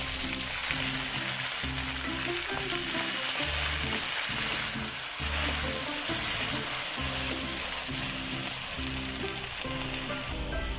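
Chopped beetroot and raw plantain frying in a hot pan for a thoran, loud steady sizzling throughout with rhythmic scraping and stirring thuds from a spoon, no voices.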